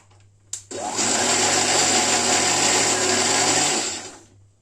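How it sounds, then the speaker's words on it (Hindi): A kitchen mixer grinder starts with a click and whirs loudly and steadily for about three seconds before winding down, churning cream to separate butter for ghee. "फिर मिक्सी चला लेते हैं।"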